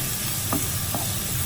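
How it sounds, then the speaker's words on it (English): Chopped carrot fries in a pan for children's nasi goreng, making a steady, close frying hiss with a couple of soft stirring scrapes. "Add the chopped carrot. Cook for a few minutes"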